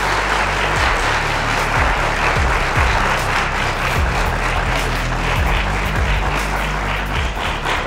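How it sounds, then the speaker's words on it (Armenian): An audience claps in loud, steady, dense applause welcoming a performer onto a stage, sustained throughout with no break or speech. "բարձր ծափահարություններով դիմավորենք մեր առաջին տաղանդին"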